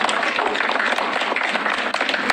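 An audience at a symposium panel applauds, dense and steady clapping from many hands that fills the short span without pause.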